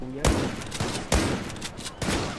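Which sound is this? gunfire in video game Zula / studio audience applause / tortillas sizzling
gunfire in video game Zula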